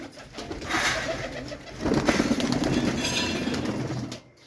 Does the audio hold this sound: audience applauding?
no